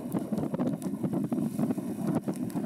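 Wind buffets an open ice field during snowfall while ice cores are being sampled, a continuous gusty roar with rustling and flapping bursts close to the microphone, no speech.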